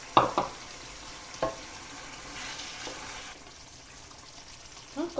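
Mushrooms going into chicken rice as it fries in a pan, with a few sharp stirring knocks and scrapes over a quiet, steady sizzle and no voices.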